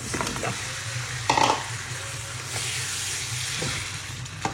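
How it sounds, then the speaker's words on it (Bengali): Spices being sautéed in a pan for a desi chicken curry, a steady close sizzle and frying hiss with occasional stirring scrapes and a brief louder burst of spattering partway through. "আর এদিকে মশলা কষাচ্ছি"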